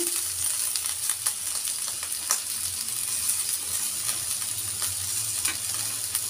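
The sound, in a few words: onion, cabbage and potato frying in a pan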